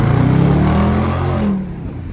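A Dodge Charger accelerating with its tires gripping, a loud, close engine roar holding steady and then easing off near the end.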